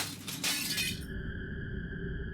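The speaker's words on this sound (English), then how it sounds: "I was startled awake by the sudden sound of something shattering from across the cabin." A shattering crash of breaking glass, used as a sound effect in a creepy cabin story, bursts out loudly for about a second and then leaves a low droning rumble of background ambience.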